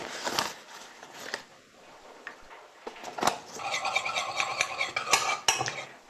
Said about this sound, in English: I will be mixing it with water in which my paprikas were boiling.